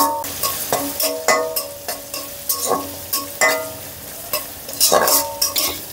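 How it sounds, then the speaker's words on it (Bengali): Onion and sliced green chilies frying in a pan for Bengali bathua greens, a steady sizzle broken by repeated clinks and scrapes of a spoon stirring against the pan, close and fairly loud with no talking. "একটু ভেজে নিয়ে সুন্দর একটা ফ্লেভার ছড়ালো।"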